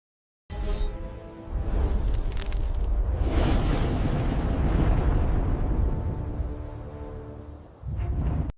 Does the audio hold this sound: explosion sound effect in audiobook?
yes